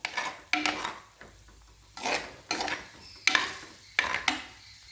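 A spoon scrapes and clatters against a pot while stirring tomato and vegetable masala for a squid curry, in several separate bursts of clinking and scraping with short pauses between them, close and fairly clear.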